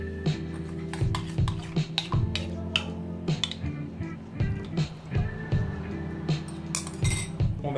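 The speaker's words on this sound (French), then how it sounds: "On mélange rapidement pour dissoudre." A utensil stirs yeast into water in a bowl to dissolve it for no-knead Roman-style pizza dough, giving steady close clinks and taps against the container over a low hum.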